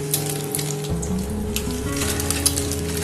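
Eggs fry in a pan with a steady, close sizzle and crackle, a continuous bright hiss with a few faint clinks and no talking.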